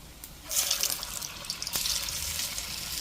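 Urad dal vadas (minapa garelu) fry in hot oil, a soft bubbling hiss that swells in after a brief quiet moment and crackles steadily at low volume, with no one talking.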